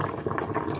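Potato chunks bubble in a pot of boiling water, a steady close rolling burble with soft irregular pops throughout, no voices.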